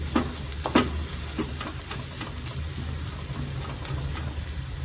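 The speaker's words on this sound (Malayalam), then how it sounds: "സവാള നന്നായിട്ടൊന്ന് വാടണം പച്ചമുളകും കരിയപ്പലയും സവാളയും കൂടെ നന്നായിട്ട് മുരിഞ്ഞു വരണം" Sliced onions, green chillies and curry leaves fry in oil, making a steady close crackling sizzle with a few sharp taps from stirring near the start, and no voices.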